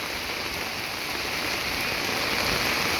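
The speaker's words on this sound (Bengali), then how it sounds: "অ্যাকচুয়ালি প্রচণ্ড রকমের বৃষ্টি পড়তেছে" Heavy rain pours outdoors along a street of shuttered shops, a loud, unbroken hiss and roar that fills the whole stretch without pause.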